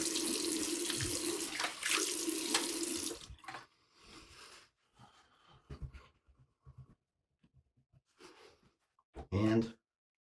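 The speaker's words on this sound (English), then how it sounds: "Okay, now rinse." Tap water running into a sink for rinsing during a wet shave with a safety razor, a steady rushing stream that stops after about three seconds, followed by quieter splashes, wet handling sounds and a short final burst of water.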